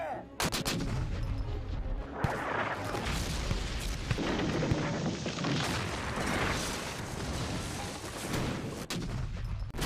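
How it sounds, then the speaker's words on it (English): Massive Civil War artillery bombardment of Fredericksburg, a loud, continuous barrage of booming cannon fire and bursting shells with sharp cracks layered over a rumbling roar. "The Federals responded with a massive bombardment designed to root out the Confederate sharpshooters from the city."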